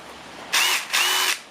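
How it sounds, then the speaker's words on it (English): A cordless impact driver revs in two short bursts, loud and close, each lasting under half a second with a brief pause between them. "My drill, my impact driver is working again."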